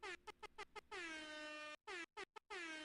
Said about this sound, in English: Let's get the air horns going for Manta out for delivery.